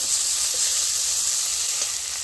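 Jackfruit seeds go into a frying pan already holding poppy seeds, producing a steady, even hissing sizzle close by with no talk.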